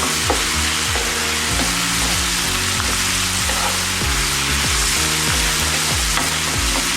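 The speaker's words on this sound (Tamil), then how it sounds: "உப்பு போட்டோம்னா சீக்கிரம் அதை வந்து வதங்கிடும் தக்காளி" Tomatoes seasoned with turmeric, chili powder and salt sauté in a pan for tomato kurma, giving a steady, close sizzle broken by frequent rhythmic scraping strokes of a spatula throughout, with no talking.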